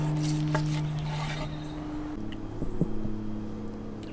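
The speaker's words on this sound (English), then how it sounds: "And then we will just slice it like that." A knife slices through a reverse-seared ribeye steak cooked on a Big Green Egg, with soft scraping and rasping strokes and a few light clicks against the board over a steady low background hum.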